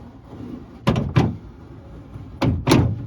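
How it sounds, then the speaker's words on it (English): Corvette C3 door window regulator clunks as the window rolls, giving four distinct close mechanical knocks in two pairs over a faint background hum. "listen to the clunk. There's a couple clunks."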